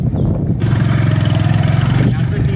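A parked motorbike's engine catches and settles into a loud, steady low chug close by, with people talking over it.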